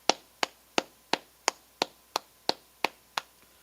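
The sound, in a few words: clapping hands at a religious service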